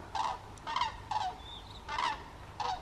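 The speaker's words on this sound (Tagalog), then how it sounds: "Oh, tingnan nyo, may duck." Ducks calling outdoors, five loud nasal honking quacks in an irregular rhythm at close range over quiet background, no voices.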